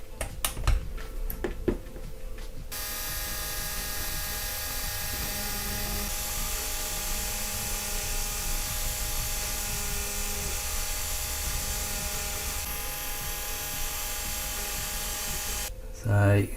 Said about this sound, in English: I'm going to press in here and try to flatten that cone down so that I can at least get a drill in there.